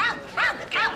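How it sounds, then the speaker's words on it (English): A dog gives two short, fairly loud barks, evenly spaced and heard close with no talk. "Oh, it's just a dog, mate."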